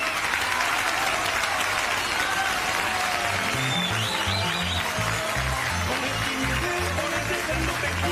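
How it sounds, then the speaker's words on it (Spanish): Strong applause from an audience at a premiere event, dense and loud throughout, mixed with a low rhythmic beat of music underneath and no speech. "le pido un fuerte aplauso para él"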